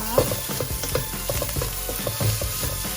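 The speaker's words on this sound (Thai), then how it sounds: "แล้วเราก็ผัดเข้ากันเลยนะคะ" Vegetables for egg fried rice are stir-fried in a pan, with a constant sizzle and a quick, regular series of spatula scrapes and knocks close by.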